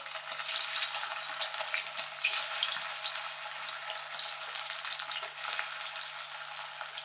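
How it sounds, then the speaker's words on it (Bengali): Eggs dropped into hot oil in a wok sizzle and spit without a break, a bright, close frying sound with quick little crackles and no voices. "আমি ডিমগুলো একটা একটা করে ছেড়ে দেবো।"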